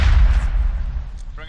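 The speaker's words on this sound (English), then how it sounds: "I'm throwing a grenade." A grenade blast in the video game Squad inside a building during close-quarters fighting, a heavy low boom that fades quickly, followed by a faint brief click near the end.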